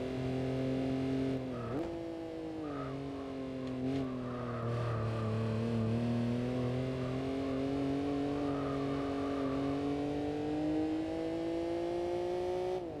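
Gran Turismo 4 car climbing a hill under steady acceleration, its engine note rising slowly and evenly, with light tyre noise and no talking.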